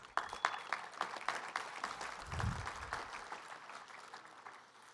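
Audience at a pool hall of fame induction ceremony clapping, a moderate crowd of hands patting steadily, fairly distant and easing off gradually toward the end.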